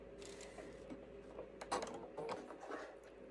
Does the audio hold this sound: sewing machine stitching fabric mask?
yes